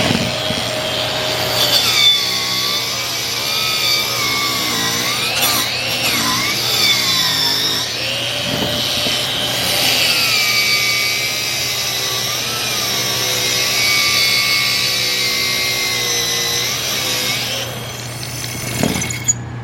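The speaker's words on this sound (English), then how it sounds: "Of course, I've got it on my Bauer cordless angle grinder." A wire wheel on a Bauer cordless angle grinder scrubs 1/4 inch welded steel, giving a loud, continuous whining rasp whose pitch wavers as pressure shifts, with brief dips before it runs to the end.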